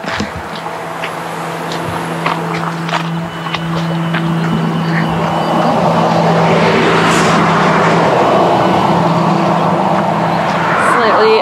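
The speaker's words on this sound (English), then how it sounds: "The trail comes out right onto this freeway with giant trucks." Heavy traffic roars steadily along a freeway where a walking trail meets the road, with large trucks moving fast; the broad rumble grows louder and fills the whole stretch, close to the listener.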